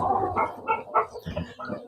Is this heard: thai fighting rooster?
yes